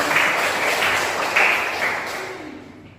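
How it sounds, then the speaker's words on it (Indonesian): A classroom of students breaks into a dense burst of applause that swells and then fades out over a few seconds, with faint voices mixed in. "Oke, benar, tepuk tangan."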